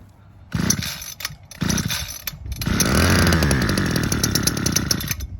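A small two-stroke hedge trimmer engine with a knocking fault gets a couple of pull-start attempts, then fires and runs loudly at a rough, rich, buzzing idle, close up.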